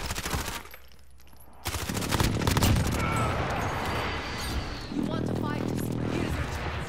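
Automatic gunfire and explosive blasts in a Call of Duty Warzone match with an MP5, loud, dense bursts running almost the whole time, with voices talking over the action.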